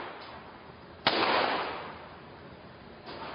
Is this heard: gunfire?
yes